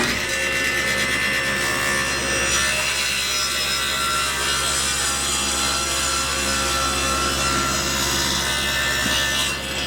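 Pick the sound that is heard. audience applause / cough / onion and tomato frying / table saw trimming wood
table saw trimming wood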